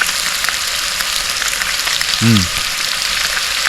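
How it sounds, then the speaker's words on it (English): Surf perch fillets fry in a pan, a loud, steady broadband sizzle holding throughout, with a brief low tonal bump partway through. "surf perch is in the pan"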